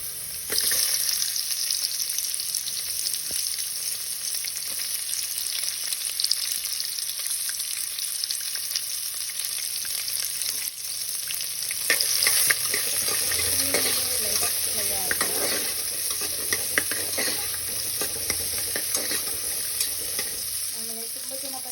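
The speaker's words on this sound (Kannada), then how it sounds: "ಈಗ ಬಟಾಣಿ ಫ್ರೈ ಆಗಿದೆ. ಸೊ ಈರುಳ್ಳಿ ಹಾಕೋತಿದ್ದೀನಿ." Onions added to a pan of fried peas sizzle steadily with stirring, a continuous frying hiss that lasts throughout with no talking.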